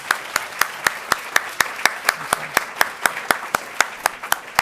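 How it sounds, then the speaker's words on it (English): Steady, evenly spaced hand claps ring out at about four per second, sparse rather than a dense crowd roar, welcoming speakers to an academic session on the poetics of an Amazonian world. "let's give now both together a warm welcome and applause."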